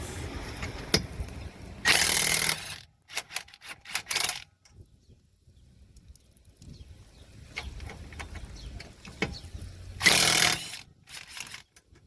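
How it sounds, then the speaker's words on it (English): Two loud bursts of an Earthquake impact wrench's rapid hammering, one near the start and one near the end, separated by quieter clinks and handling noise, while installing mudflaps. "I gotta love using this earthquake impact wrench"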